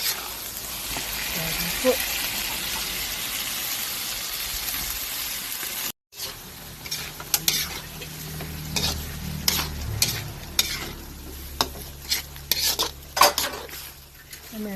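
Chicken intestines sizzle steadily in a pan while being fried for adobo, with metal utensil scrapes and clinks as the food is stirred, and a voice briefly speaks over the cooking noise.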